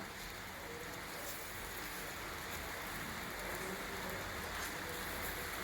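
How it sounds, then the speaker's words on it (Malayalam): Heavy rain pours down outside, a dense, even hiss of drops on surfaces that stays constant and moderately distant throughout, with no talking. "ഇന്നിവിടെ നല്ല മഴയാണ്."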